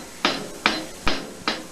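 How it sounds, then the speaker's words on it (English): A rock drum beat with a snare drum added, four sharp, evenly spaced snare cracks with a low kick under one of them, close and fairly quiet with no talk. "I'm going to add in the snare drum now"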